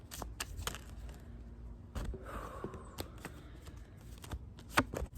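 Tarot cards from the Morgan Greer and Wildwood decks being shuffled and drawn, with close, crisp riffles and sharp card snaps spaced irregularly across a quiet room.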